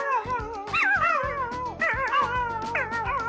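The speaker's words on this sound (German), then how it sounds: "I tried to mess with my dog." A dog in a meme gives a string of high, wavering whines and yips that rise and fall in pitch, with short bursts in between. The sounds are close and fairly loud, with no speech.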